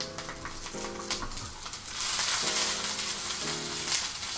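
Food sizzles and chars in a hot aluminum pan for huevos rancheros, a loud, steady frying hiss heard close up, with brief tonal hums underneath and no talk.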